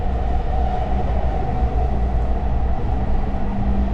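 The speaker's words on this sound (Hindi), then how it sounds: "Right now we are in the train and going somewhere." Steady rumble and hum inside a moving train in Athens, a continuous loud rolling drone with a constant mechanical whine and no speech.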